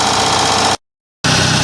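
An Onan 305 CCK generator engine runs steadily with a loud, dense mechanical drone, cut by a half-second dropout of silence before the same running sound resumes.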